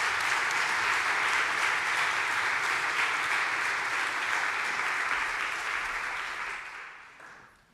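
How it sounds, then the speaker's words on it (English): A keynote audience at a conference on digital transformation in schools and teacher training gives warm, dense applause that holds steady for several seconds and then tapers off. "So it's my very pleasure to welcome Stuart Kime and give him a warm applause."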